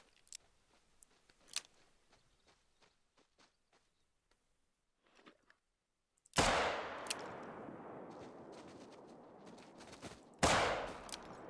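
Pistol shots in the hunting video game theHunter: Call of the Wild, two sharp loud blasts several seconds apart, each followed by ringing echo, after a stretch of quiet faint clicks and ambient noise.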